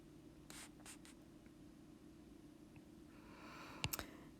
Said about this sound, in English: you're going to either write rational or irrational